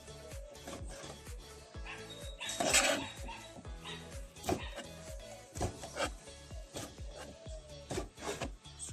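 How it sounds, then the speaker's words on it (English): A knife chops scalded conch for red pea soup on a board, a steady run of close, firm knocking cuts with a few louder scraping clatters among them. "I'm just cutting up the Kong."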